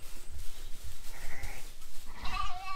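Sheep bleat repeatedly on a farm during lambing season, close and fairly loud, with several calls in a row that become more prominent toward the end.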